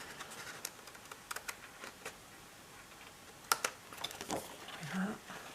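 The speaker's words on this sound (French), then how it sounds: "Et finir avec les ciseaux, ce sera plus simple." Scissors cutting through thick paper, heard as a quiet, irregular run of close, crisp snips and scratchy clicks with short pauses between them and no talking.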